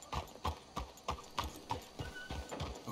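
Horses clip-clop along in Red Dead Redemption 2, a regular, fairly quiet rhythm of hoofbeats about three per second, heard alone.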